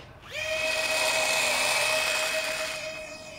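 A mini RC Boeing 747 with electric ducted fans takes off, its whine spooling up quickly to a steady, high, tonal scream that fades slightly at the end, with no talking.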